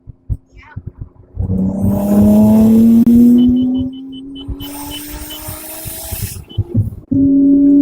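Car accelerating during a ride, its engine note rising steadily in a loud, close drone, easing off midway and then surging again near the end.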